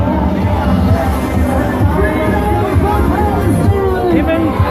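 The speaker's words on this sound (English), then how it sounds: "They're trying to drown basically the chants, the anti-Semitic and the anti-Israeli chants of the crowd with music." A dense crowd of protesters at a Quds Day demonstration, with many overlapping voices and raised chanting mixed with music, loud and continuous, close by.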